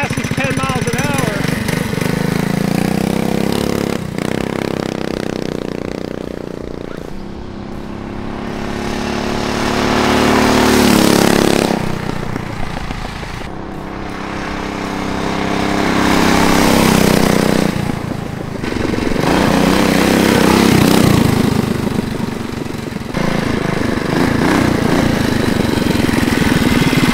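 A Predator Ghost 212cc mini trike engine drones loudly as it passes by, rising and falling in pitch while the throttle swells and eases over several passes, with wind noise and occasional talking.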